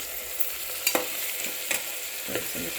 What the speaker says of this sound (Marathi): पुलाव मसाला टाकते अंदाजी आणि पण तेलामध्ये चांगला परतून घ्यायचा